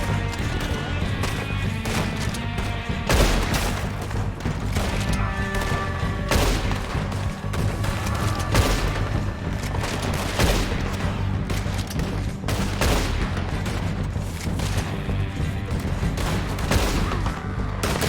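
Gunfire in the video game Red Dead Redemption 2: a dense, sustained firefight of rapid overlapping gunshots and sharp cracks, loud and close, with game music and occasional voices underneath.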